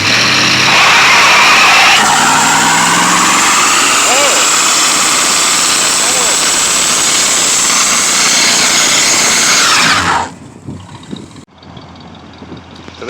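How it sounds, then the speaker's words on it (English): A 1966 Pontiac V8 roars at full revs for a burnout, loud, close and steady for about ten seconds before cutting off sharply to a quieter idle rumble with scattered noise. "Today on One Man Garage, we're going to do a burnout."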